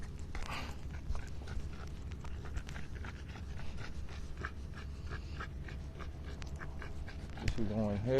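Dogs pant and whimper nearby, with soft rhythmic breathing and small whines under low background noise, followed by a brief jingling rattle at the end.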